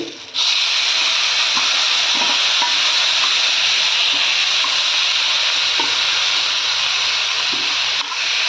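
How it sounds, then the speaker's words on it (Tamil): Chickpea sundal sautéing in a hot pan for Navarathri prasadam, a steady loud sizzle and hiss running almost the whole time, with soft scrapes of stirring now and then. "இது மாதிரி நல்லா வதக்கினதுக்கப்புறம் சுண்டலை இதில் போட்டு"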